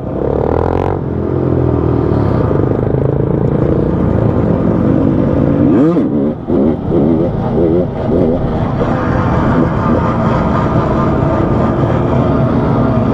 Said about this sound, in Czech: Ta motorka se chová fakt divně.